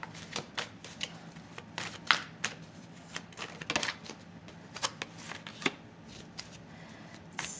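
Romance Angels love oracle cards being shuffled, a steady run of soft papery riffles and slaps close by, with no talking.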